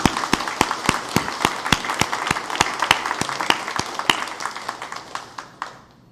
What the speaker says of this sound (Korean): 우리 박수로 환영을 하겠습니다.